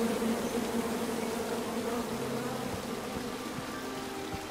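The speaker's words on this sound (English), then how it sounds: "Come at me, bees!" A swarm of bees in the video game King's Quest droning in a steady, dense buzz that holds close and loud for several seconds, easing slightly toward the end, with no voices.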